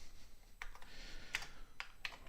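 Typing on an Intellivision keyboard component, a handful of crisp key clicks coming in irregular pairs and clusters against a low, steady background hiss.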